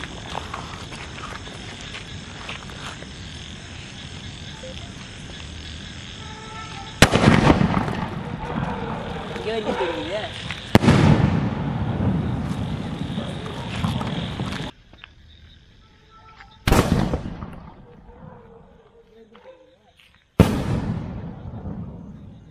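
Four-inch shot Sivakasi Diwali fireworks burst outdoors in a series of sharp, loud booms. Each bang is followed by a crackling, fading tail, and there is background noise between the bursts.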